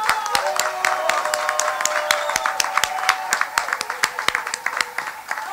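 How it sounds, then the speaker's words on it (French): Audience applause at a Congolese community celebration, scattered sharp claps repeating steadily over several seconds, with a sustained tone and voices underneath. "On peut aussi vous applaudir"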